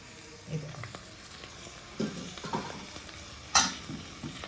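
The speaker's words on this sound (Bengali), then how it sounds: "সেই বাটি ধোয়া জলটা একটুখানি ছিটিয়ে দেবো" Splashes of spiced water from the mixing bowl hit paneer frying in a pan, each one setting off a brief burst of hissing sizzle, close and fairly loud, with quieter crackling in between.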